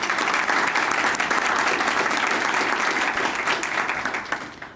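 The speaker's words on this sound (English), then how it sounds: "I'd like to applaud Stephen" A room of guests at a media center ribbon-cutting ceremony claps for Stephen, a loud sustained wash of applause that holds steady, then thins and fades near the end.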